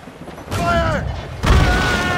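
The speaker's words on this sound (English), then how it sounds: "Enemies firing!" Enemy warship cannons boom during a sea fight in Assassin's Creed Rogue, with two heavy blasts about a second apart over a rumbling backdrop and a brief shout between them.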